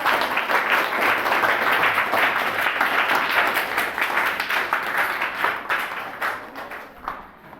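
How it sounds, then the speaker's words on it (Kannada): A classroom group claps together for a student, a steady dense round of many hands that holds for several seconds and then thins out and fades toward the end. "ಈಗೆಲ್ಲರೂ ಸೃಷ್ಟಿಗೆ ಒಂದು ಚಪ್ಪಾಳೆ ಹಾಕ್ರಿ ಎಲ್ಲರೂ."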